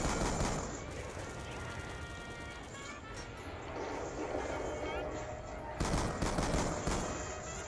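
Submachine gun fire from Call of Duty Black Ops II Zombies in the Nuketown map, rapid bursts of game gunshots under continuous chatter from players talking.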